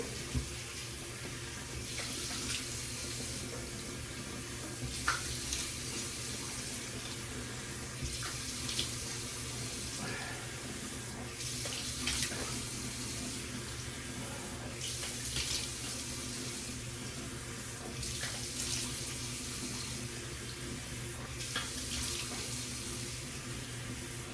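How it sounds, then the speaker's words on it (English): Hot water runs steadily from a bathroom tap into a sink, a continuous close splashing hiss with small shifts in flow and no talking. "So let's just go ahead and get some hot water going."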